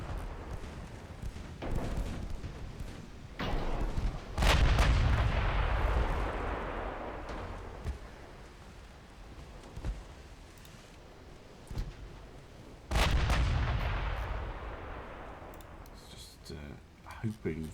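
Warship main guns firing high-explosive shells in a 1930s naval video game aboard HMS Hood, heard as two heavy booming salvos with long rumbling decays, separated by lighter clicks and thumps.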